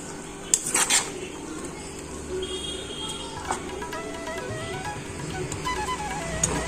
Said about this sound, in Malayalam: തിളച്ച് വരുന്ന സമയത്ത് നമുക്കിതൊന്ന് ഇളക്കി കൊടുക്കണം